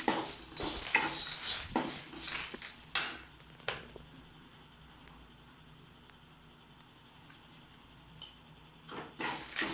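Half a cup of grated coconut is stirred in a hot pan for a village-style egg curry, with clattering spatula scrapes and metallic clinks at the start and end and a quieter stretch between.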